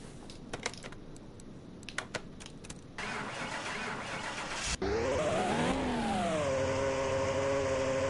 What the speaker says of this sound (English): That engine's gonna start.